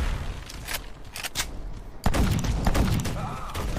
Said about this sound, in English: They are killing me with machine gun.